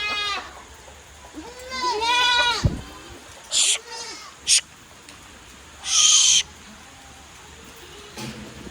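Goats in a rain-soaked shed at evening feeding time bleat in a run of wavering, nasal calls early on, followed by a few short sharp cries, fairly close and loud against a quiet background.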